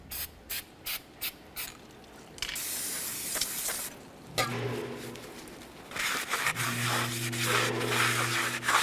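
A run of short spray bursts gives way to a long continuous hiss as cleaner is sprayed inside a 2004-2006 Scion xB rear brake drum. The spray is close and loud, with a steady hum joining partway through.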